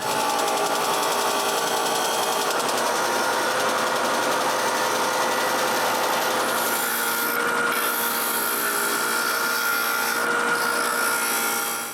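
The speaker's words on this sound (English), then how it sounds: "after making sure the sander table is square, I sand all of them up to the line" A bench sander with a squared table grinds wooden cryptex rings down to a marked line, giving a loud, continuous whirring rasp that stays close and steady throughout, with slight shifts in pitch as the wood is pressed against it.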